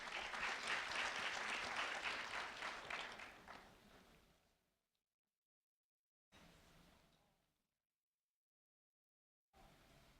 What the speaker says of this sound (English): a round of applause for Celise Valerie Ramirez